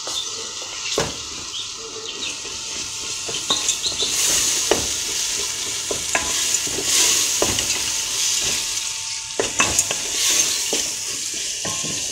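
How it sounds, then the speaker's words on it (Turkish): Lentils and tomato paste sautéed in a pot for a large batch of lentil soup, with steady sizzling and frying under repeated sharp scrapes and clinks of a spoon stirring against the pot, close and continuous. "2 yemek kaşığı da domates salçasını ekledikten sonra kavurmaya devam ediyoruz."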